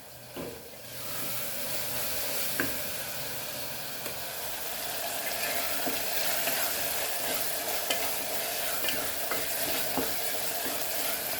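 Spices and onions fry in a pan for dal fry, giving a continuous close sizzle and hiss with frequent scraping stir strokes. The sound runs alone and grows slightly louder after the first second.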